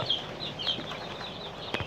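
Egyptian-breed farm hens cluck in short, quiet bursts at a distance, a few scattered calls over a faint ambient background with no talking.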